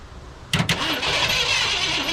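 A 1967 Ford Galaxie 500 with a weak battery cranks after a brief quiet lead-in, the starter turning over sluggishly and continuously at close range.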